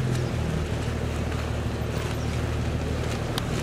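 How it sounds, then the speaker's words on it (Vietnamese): A huge seagoing barge passing on a canal gives off a constant low rumbling engine drone mixed with broad wind and water noise, steady throughout with no voices. "Quá trời bự rồi, chiếc này, chiếc xà lan đi biển khổng lồ luôn"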